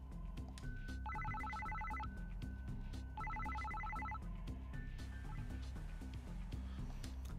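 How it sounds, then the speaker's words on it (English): Cell phone ringing in the video game Psycho-Pass: Mandatory Happiness, two bursts of trilling electronic ring over soft background music, then the ringing stops. "Suddenly, it seemed like Shiori's cell phone started ringing"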